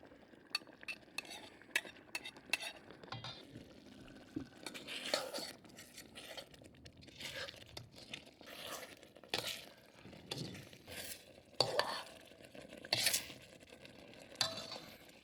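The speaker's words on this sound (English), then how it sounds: "And now you're gonna put the eggs in it." Eggs cooking in sesame seed oil in a frying pan while being stirred, with repeated scraping and clinking of a utensil against the pan over a soft sizzle, close and fairly quiet with no talk.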